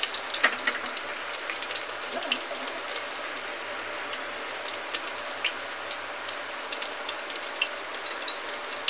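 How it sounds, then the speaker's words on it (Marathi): Mustard seeds fry in a pan in a home kitchen, making a bright, busy crackling and popping sizzle that carries on steadily and close, with no talking. "फ्राय हो द्यायला."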